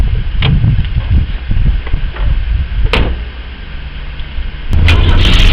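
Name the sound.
1982 Ford Cortina car engine driving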